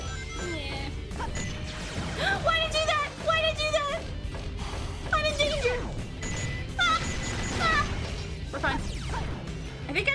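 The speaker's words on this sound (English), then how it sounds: "I don't know why they all make a meow sound, but they do." Chao creatures in Sonic Adventure 2 Battle give several short, high cat-like meows amid game clatter and crashes, heard under ongoing talk from a player.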